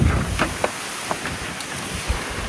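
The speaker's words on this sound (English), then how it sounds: "There's just too much wind." Strong wind buffets a sailboat at sea on a rough passage, a steady roaring rush against the microphone with a few sharp knocks and gusts, no voices.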